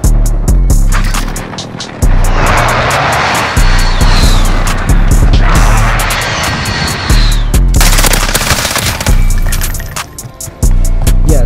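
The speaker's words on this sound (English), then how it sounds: "friendly precision airstrike inbound" In a first-person shooter, a precision airstrike arrives with a jet roaring overhead and heavy, rapid gunfire. Loud, dense bursts with swelling aircraft noise fill the whole stretch, and there is no talking.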